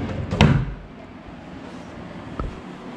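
Drawers in a hotel room at an all-inclusive resort in the Riviera Maya are pulled open and pushed shut, giving a sharp close thump near the start and a softer knock later, with no one talking.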